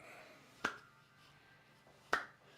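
Two sharp hand claps made beneath a lifted knee during a seated heart-health exercise, spaced about one and a half seconds apart, each crisp and close against a quiet room.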